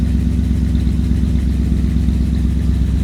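A 1958 Cadillac engine runs steadily at idle, a loud, continuous low rumble with light clatter and no break.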